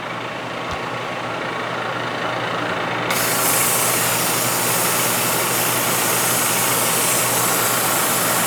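A milling machine cuts custom jaws for a large Parker vise, taking a 40-thousandths pass at 1,600 RPM and 8 inches per minute. A steady, loud broadband machining roar runs throughout and grows noticeably louder about three seconds in.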